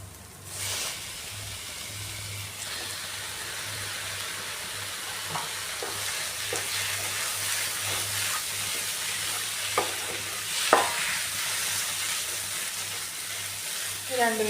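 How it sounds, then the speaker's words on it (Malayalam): Squid sautéing in a pan for a Kerala-style side dish, a steady close sizzle with intermittent scraping clicks of a spoon stirring through the pieces. "രണ്ട് മിനിറ്റ് നല്ലോണം ഇളക്കി കൊടുക്കുക."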